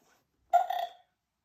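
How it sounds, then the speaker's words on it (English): A single short, voiced cartoon pig's burp, loud and close, lasting about half a second in otherwise quiet surroundings. "Burps Peppa"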